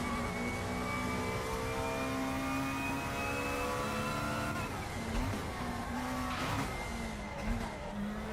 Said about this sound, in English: You can hear the moment your car locks up.